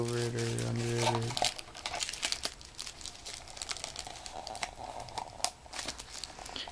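Plastic bag crinkling around a potted Nepenthes lowii pitcher plant, a close, irregular rustle that keeps going after a brief steady tone at the start.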